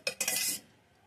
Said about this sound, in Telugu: ఇప్పుడు ఇడ్లీ ప్లేట్ తీసుకొని